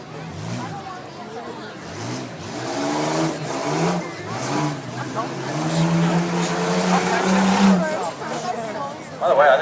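A 1997 Ford Explorer truck engine revs and rises in pitch at a drag race, loud and sustained, with an announcer talking over the engine noise throughout.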